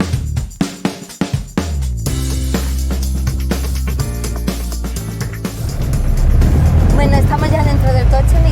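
A Mercedes taxi in Melilla rumbles with a low engine drone and road noise while riding, with a door or boarding thuds early on and people speaking over the steady hum.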